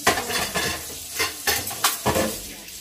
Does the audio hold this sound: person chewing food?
no